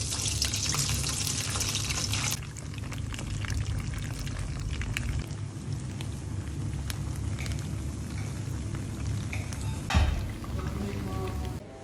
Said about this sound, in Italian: Preparatevi una bella padella con l'olio bollente e iniziamo a friggere.